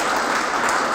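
Wedding guests applaud as a couple prepares to exchange rings, giving a brief, dense, continuous wash of many hands clapping at fairly close range, with no voices audible.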